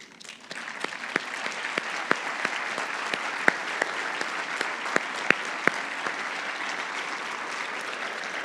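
Graduation ceremony audience applauding top students as they stand, steady sustained clapping from a large crowd with sharp individual claps standing out, no speech over it.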